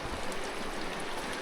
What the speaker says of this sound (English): Water's coming off the mountain. You can see it dripping right there.